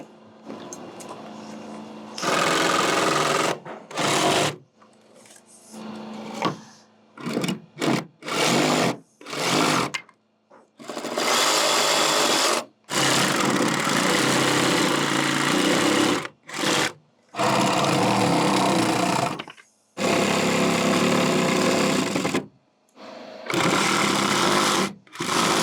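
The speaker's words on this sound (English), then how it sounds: "Now, Sawzall." A Sawzall reciprocating saw cuts wooden stair stringers in a long series of loud, buzzing bursts of varying length, broken by short silences where the blade stops, and no one speaks.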